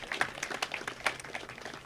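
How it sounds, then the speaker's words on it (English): Scattered audience clapping at a community presentation about a coastal development, a thin, uneven patter of individual claps at moderate to faint level. "That's worth clapping for."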